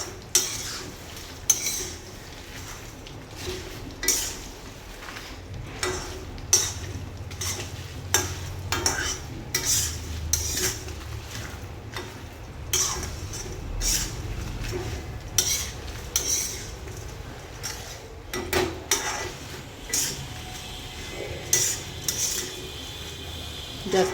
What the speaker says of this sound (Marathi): आता हे मंद आचेवर सर्व भाजायचे आहे तेलामध्ये छान.